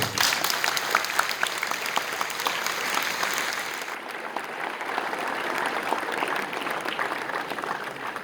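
Sustained applause from a large audience at a boys' final awards ceremony, a steady dense clatter of clapping that continues without a break, slightly thinning partway through.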